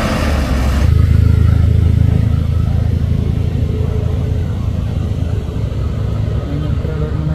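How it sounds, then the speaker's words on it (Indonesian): A trailer truck grinds uphill with a continuous, heavy engine drone that holds steady throughout, close and loud. "Ini trailer menanjak bosku."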